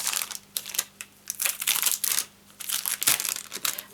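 A plastic wrapper on a pack of designer series paper crinkles and crackles loudly up close, in irregular bursts of rustling with short gaps.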